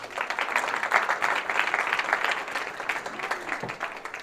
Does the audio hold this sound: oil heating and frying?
no